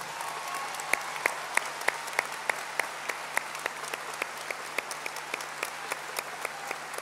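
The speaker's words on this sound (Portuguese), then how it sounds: "eu quero pedir uma salva de palmas muito especial para todos vocês hoje" A concert crowd at the Altice Arena applauds a live show, with a steady wash of clapping and a few sharper, rhythmic claps standing out at regular intervals, moderately loud throughout.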